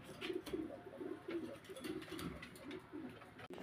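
A breeding pair of pigeons coo in soft, low, repeated rolling phrases, faint and close, with no other sounds over them.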